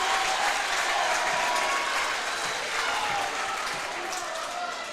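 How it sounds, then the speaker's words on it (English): Fans at a high school basketball game between Wahpeton and Breckenridge clap as the starters are introduced, a dense, steady round of applause filling the gym that slowly eases off toward the end. "now Coach Ralph bringing in his starters here for a nice round of applause from their fans"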